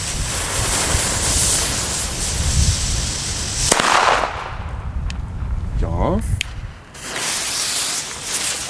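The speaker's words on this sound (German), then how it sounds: "So, wir fangen, wie gesagt, mit den Pyro-Crackern an." A Titanschlag Blau pyro cracker firecracker going off outdoors: one sharp, loud bang cutting through steady wind noise, followed by fainter crackles and a brief lull before the wind rises again.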